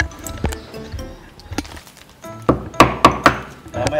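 Sharp, solid hammer strikes land at irregular intervals, with a quick run of three blows near the end, close and fairly loud.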